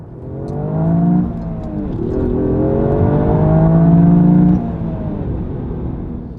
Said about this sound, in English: It sounds good too, with a low growling noise from the turbocharged 3-cylinder engine and a turbocharger whine between gear shifts.